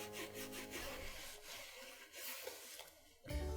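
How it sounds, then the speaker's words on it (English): Wax polish being rubbed by hand along the welt of a Berluti dress shoe, giving a steady close scuffing friction with a sharp louder scrape near the end. "All the way along the welt, making sure you get that wax polish worked in there quite nicely."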